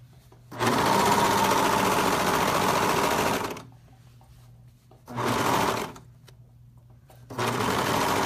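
A serger sewing machine runs in three bursts as it serges the seams of knit joggers: a long steady whirring run, then two shorter runs, separated by quiet pauses.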